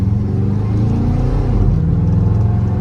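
A 1955 Chevrolet Bel Air with dual exhaust pulls away from a stop, its engine a loud, steady low rumble that builds slightly as it gets under way, heard close and with no talk.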